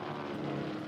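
A Japanese propeller warplane drones overhead in archival war footage, a steady, loud engine hum that holds evenly through the moment with no voices.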